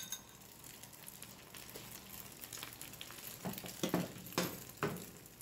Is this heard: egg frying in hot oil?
yes